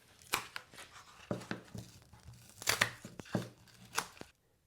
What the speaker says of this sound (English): grab your utility knife or some scissors and just cut off everything that's poking out from the edge